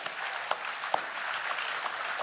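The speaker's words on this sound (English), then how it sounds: "give you a round of applause" Steady applause from a crowd at a CPAC political conference, a dense wash of many hands clapping at an even level for a couple of seconds with no voices.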